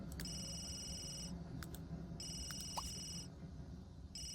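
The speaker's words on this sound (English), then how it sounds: "Whose phone is ringing?" Phone ringing in The Sims 3 video game: bursts of a bright electronic ringtone repeat with short gaps over a faint steady background, fairly quiet.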